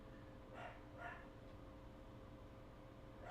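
A pet dog sitting on a couch by a front window gives two faint, quick barks about half a second apart. Afterwards there is a quiet room hum.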